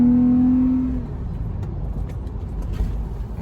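A Toyota 4Runner's engine pulls hard while driving, starting with a steady droning tone that drops away into a rough, rushing roar of motor and road noise, loud and close with no talk.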